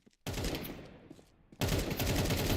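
Gunfire from a video game match in an esports league, heard as loud, dense bursts of rapid shots that open abruptly, ease into quieter rumbling, then surge back hard and continuous.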